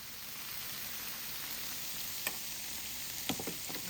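Tomatoes fry in a pan with a steady, even sizzle throughout, broken by a few faint clicks and taps of a utensil; no one speaks.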